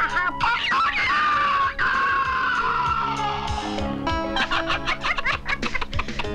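A rooster crows with a long, falling call near the start, set against steady music and busy sound from a 1991 animated children's film.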